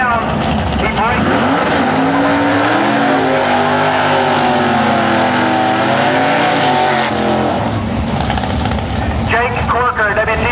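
Drag racing cars at an early-2000s IHRA race in Farmington, including a flaming Camaro, roaring loudly and continuously down the strip, with an announcer talking over the engine noise throughout.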